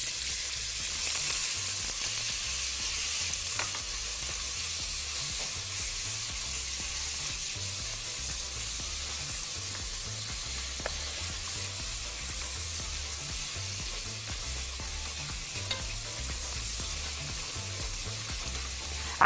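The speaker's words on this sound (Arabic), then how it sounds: "الحله سخنه، هنزل بالبصل" Onions fry in a hot pot of butter and oil, a steady, even sizzle that holds close and constant throughout with no talking.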